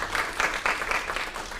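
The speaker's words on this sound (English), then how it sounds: "So give Amber a big round of applause" An audience at a commercial real estate agent training session applauding for a presenter, a short burst of dense clapping from a modest crowd, near and steady.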